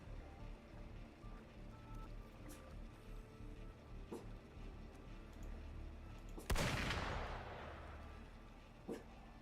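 Gunfire in the Wuthering Waves action game: one sharp, loud crack bursts out of a quiet, murmuring background, with a few faint ticks around it.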